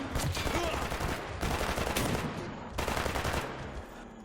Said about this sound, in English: Fanatic just shot me